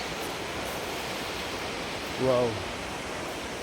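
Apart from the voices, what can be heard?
flowing water of waterfall at Mau Mau cave, Embu, Kenya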